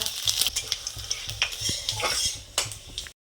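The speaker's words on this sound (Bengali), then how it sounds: "তো তেলটা গরম হোক। 5 ফোড়ন, তেজপাতা, শুকনো লঙ্কা।" Panch phoron five-spice, bay leaf and dried red chili crackling in hot oil, a bright continuous sizzle with scattered pops and the scrape and clink of a spoon against the pan, close and unbroken until a sudden cut.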